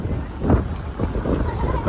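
Strong wind gusts buffet an outdoor microphone at midday during rain, giving a steady low roar with louder rumbling bursts throughout.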